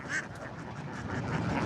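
Khaki Campbell ducks quack together in a steady, moderately loud flock chatter, with no talking over it.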